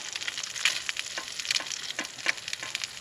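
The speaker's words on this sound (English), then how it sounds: "The grease is boiling though" Grease boils and sizzles in a lightweight coal-handled skillet outdoors, a close, continuous crackling hiss with scattered sharper pops and no talking.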